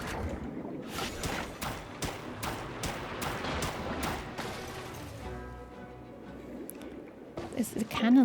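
Cannon fire in the video game Genshin Impact: a rapid run of about ten loud, sharp booming shots at a steady rhythm, followed by a quieter mechanical stretch and a final burst of blasts.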